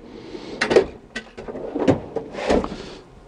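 A toolbox drawer full of pliers is pulled open, giving a few rattling, sliding metallic clunks over about three seconds, close and moderately loud, with no speech.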